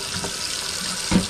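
Water running steadily from a tap after an electric water heater replacement, a loud continuous rushing hiss with a brief splashy surge near the end.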